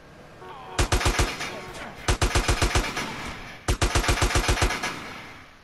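An AK rifle fires in Grand Theft Auto San Andreas: three loud bursts of rapid automatic gunfire, each about six to eight shots, separated by short pauses.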